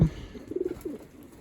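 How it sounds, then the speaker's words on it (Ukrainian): After a sharp knock, a moulting loft pigeon close by gives a short burst of throaty coos, followed by one more brief call, then quiet. "голуби"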